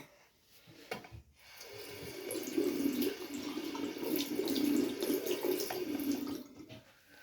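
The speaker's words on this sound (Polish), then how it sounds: "Mamy namoczone, więc dajemy wodę." Tap water runs in a steady splashing stream into a sink, starting after a few knocks and clatters, then cutting off near the end, fairly close and moderately quiet.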